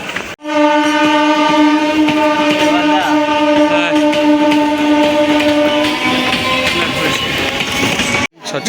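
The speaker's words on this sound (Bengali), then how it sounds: "এই মুহূর্তে বারাইপুর লোকাল ঢুকছে" A Baruipur local train pulls into Sonarpur Junction: strong horn tones, held loud and near for most of the stretch, over steady rumbling of the rail cars, cut short at the end.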